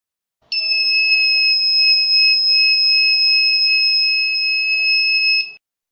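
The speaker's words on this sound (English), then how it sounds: "Then the buzzer switches on." A steady electronic buzzer tone from a Cretile Explorer Kit module sounds loudly and continuously for about five seconds, then cuts off abruptly into silence.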